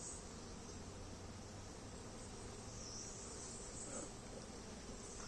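Honeybees at a hive buzz steadily and faintly, a continuous hum with no voices.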